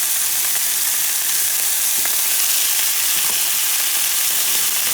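Marinated onions go onto cube steak for Puerto Rican bistec encebollado, a loud, close, continuous sizzle with a few faint stirring clicks and no talking.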